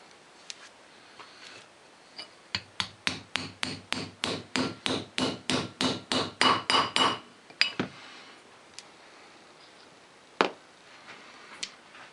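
A seal fitted on an old sleeve is tapped down into a motorcycle swing-arm linkage bearing: a rapid run of about twenty sharp, evenly spaced metallic taps, close and loud, then a few isolated knocks in otherwise quiet surroundings.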